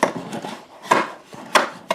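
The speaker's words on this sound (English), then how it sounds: "That noise you hear is the magnet jumping across a brace that's right here." A magnetic sanding tool drags across the inside of a 1927 Martin guitar's soundboard and knocks as it jumps over a brace, giving a scratchy rubbing sound with several sharp wooden clicks, close up.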